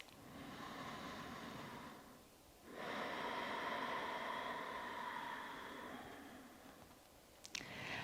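Slow, audible ujjayi breaths through a narrowed throat, a soft ocean-like rushing inhale and exhale with a pause between, quiet and close.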